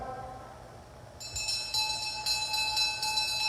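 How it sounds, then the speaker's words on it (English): Last-lap bell rung at a national cycling track championship race, a bright metallic ringing that starts partway in and repeats in several strokes over a steady background of crowd and track noise. "There is the bell"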